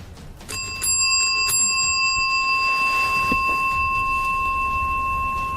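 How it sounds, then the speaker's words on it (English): Hand bell rung a few times, giving bright sustained metallic tones with a couple of quick strikes near the start that then ring out and slowly fade over steady background noise. "He rings the bell a few times to show James that it works"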